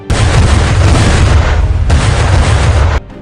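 Cannon fire from warships in a naval battle in the fast currents of the Myeongyang Strait: two long, heavy rumbling booms, loud and close, each rolling on for over a second before cutting off.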